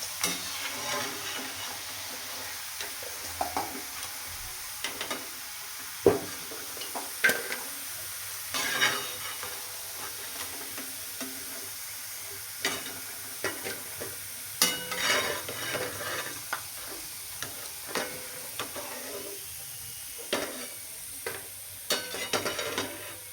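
Ginger frying in oil in a pan for a homemade masala, a steady close sizzle running throughout with occasional stirring clinks and scrapes, no voices.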